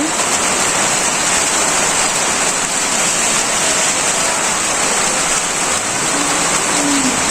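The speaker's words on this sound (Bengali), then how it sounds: "বৃষ্টি নামতেছে" Steady, dense rain pours down continuously in a Bangladeshi village, a loud even hiss with no gaps and no voices.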